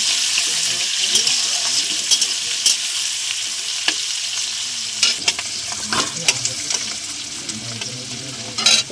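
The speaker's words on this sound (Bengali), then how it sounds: "তেজপাতা দিয়ে দিলাম, পেঁয়াজ কুচি দিয়ে দিলাম। পেঁয়াজটা ভেজে নেব।" Chopped onions fry with bay leaf, cumin, cardamom and cinnamon for a mutton curry, giving a steady close sizzle with spoon stirring and scraping clicks throughout.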